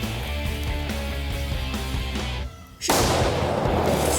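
A single loud rifle shot fired at a gray fox on a hunt outdoors, a sharp blast cutting in after a steady musical background and ringing out briefly.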